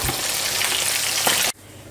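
Loud, continuous sizzling of chicken wings frying in hot oil, crackling steadily before cutting off abruptly near the end.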